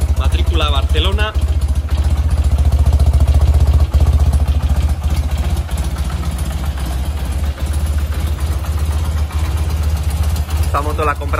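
A BMW R80 motorcycle engine idles steadily in a garage, a low continuous throb close by, while someone talks over it at the start and end.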